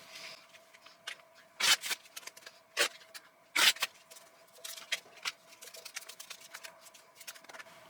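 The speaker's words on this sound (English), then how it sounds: "We're gonna shuffle first." Cards are riffled and shuffled in a series of sharp crackling bursts and softer flicks, close by, with a faint steady hum underneath.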